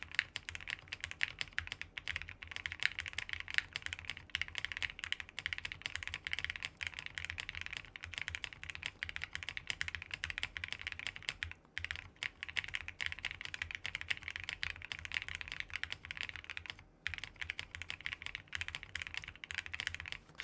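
Fast, steady typing on a Tiger 80 mechanical keyboard, a $225 board, with close, dense keystroke clatter running without a break for about twenty seconds and no voices.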